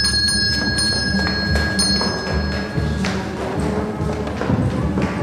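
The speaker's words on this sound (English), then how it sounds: "it's the bell in the room in which you're working, sir." Bell ringing in a working room, a steady high electric-bell tone sounding alongside thumps and taps, loud and close, with a bright ring continuing for the first few seconds.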